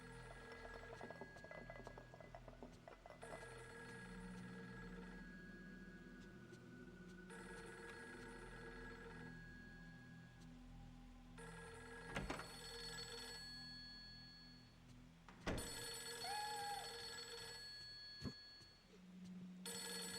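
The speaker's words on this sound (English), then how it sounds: "a phone ringing" An old telephone rings in repeated bursts with pauses between them in Fatal Frame III, over a low, eerie game ambience.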